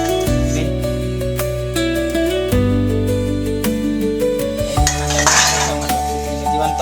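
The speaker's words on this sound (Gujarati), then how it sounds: "આ 12 કલાકના વાસણા છે બધા અમારે. 2-4 ડીશ ને 2-4 ગ્લાસ ને તપેલું." Plates, glasses and a metal pot clink and knock together continuously as they are washed up after a day's use in a home kitchen, with steady running-water noise underneath.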